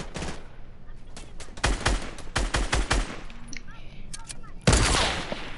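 Bursts of video game gunfire crack out in several volleys, some rapid and automatic, with a loud blast near the end, mixed with occasional talk.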